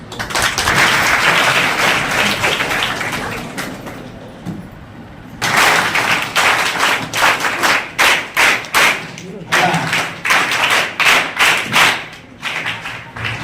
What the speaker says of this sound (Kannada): ನಮಗೆ ಕೂಡ ಚಪ್ಪಾಳೆ ಹೊಡೆಯೋದು ಇಷ್ಟು ಜೋರಾಗಿ